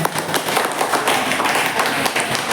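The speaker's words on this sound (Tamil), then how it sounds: "அதுக்கு முதல்ல எல்லாம் கைத்தட்ட கொடுக்கலாமே." A crowd at a 2025 New Year celebration program at an office in Thirumayam claps together, a dense, steady patter of many hands, loud and sustained throughout.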